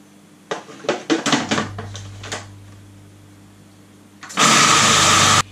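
A food processor grinding sesame seeds into tahini cuts in late with a loud, steady motor whir after a stretch of scattered clicks and knocks, the whirring running strong to the end.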